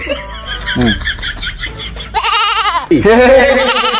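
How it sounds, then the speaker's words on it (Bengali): A goat bleats in loud, wavering, nasal cries, several close calls in a row, the last two longer and stronger, with voices around it. "ছাগল সম্মতি দিতেছে, ছাগল সম্মতি দিতেছে মাতব্বার"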